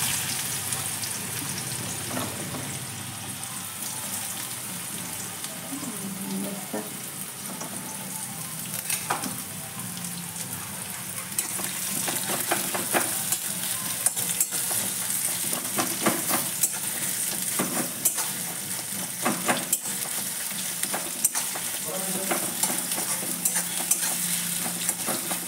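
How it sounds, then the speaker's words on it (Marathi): Finely chopped onions frying in hot oil hiss continuously nearby, with repeated stirring scrapes and occasional utensil clinks against the pan, the sizzle intensifying midway. "पहिले आपण काय करू, कांदे फ्राय करून घेऊ।"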